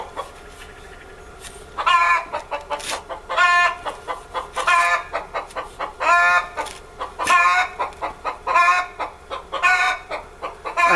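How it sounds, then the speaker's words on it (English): A hen cackles loudly and proudly after laying an egg, a steady run of clucks rising into bursts of insistent squawks that repeat across the stretch. "I have a chicken very proud of the fact she laid an egg."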